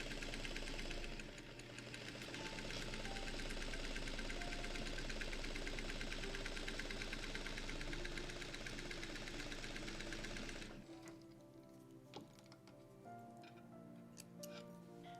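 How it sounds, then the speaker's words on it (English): A vintage Singer 301 sewing machine stitches in a fast, even mechanical whir with a rapid ticking pulse, running close and loud for about ten seconds before stopping to quiet handling sounds. "there's nothing that appeals to me more than the happy sound of working an old-fashioned machine"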